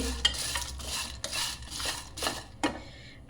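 Small green cardamom pods roasting in a pan over low heat, stirred with a utensil in repeated scraping, rattling strokes at a steady rhythm, close and moderately loud.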